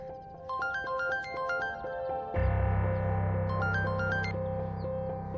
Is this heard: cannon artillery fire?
no